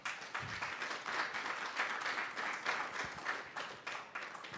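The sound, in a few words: audience applause for panelists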